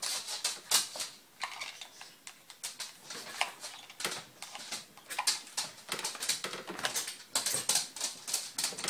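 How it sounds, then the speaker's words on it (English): Small dogs bark in sharp, repeated bursts up close, with the quick clicking of a dog's nails on a hard floor mixed in between the barks. "you have to listen to my dogs bark because that's what they do."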